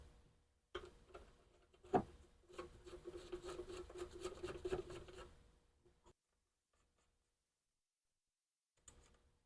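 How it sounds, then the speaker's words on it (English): Bolts are threaded back in by hand, giving faint close rubbing and ticking metal scrapes for a few seconds, with one sharper click, then quiet. "I'm going to thread these bolts back in."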